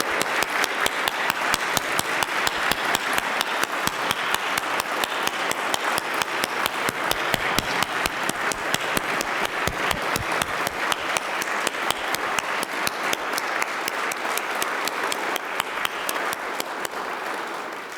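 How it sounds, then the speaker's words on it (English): Sustained audience applause at an awards ceremony honoring heroes, dense steady clapping filling the room for the full stretch without pause, no voices over it. "Can we have another round of applause for all of our brave heroes here tonight?"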